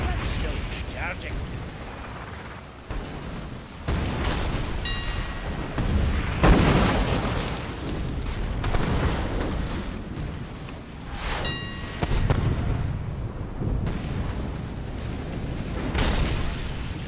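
Rockets firing and exploding in a space battle video game, a run of deep booming blasts and rumbling impacts at irregular intervals, loud and close, with a voice talking over parts of it.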